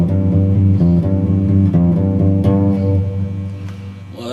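Clean electric guitar with no effects pedal, a steady run of plucked notes and chords played close and loud, fading slightly toward the end with a small scrape at the close.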